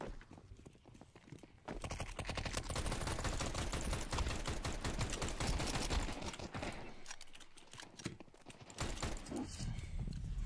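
Pistol gunfire in Counter-Strike 2, a dense run of rapid sharp shots lasting several seconds, followed by quieter scattered shots and footsteps.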